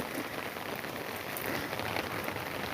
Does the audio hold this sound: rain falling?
yes